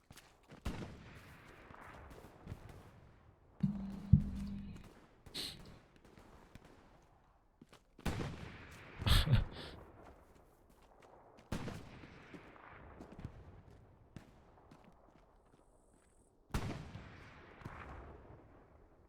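Gunfire in the World War I battle game Battle of Tannenberg, during a Christmas event: scattered sharp rifle cracks and bursts at irregular intervals, some near and loud, others farther off, over a low ambient battlefield rumble, with no speech.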